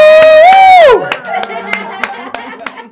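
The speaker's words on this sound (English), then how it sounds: "Clap it up for yourselves," An audience claps for a guest on a podcast, with sharp irregular hand claps and scattered cheers following a sustained whoop, as a crowd applauds together at close range.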